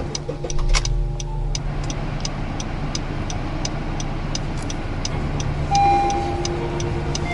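A Honda car idling in a parked setting, a steady low engine rumble with a brief rise near the start and a repeating ticking on top, continuous throughout.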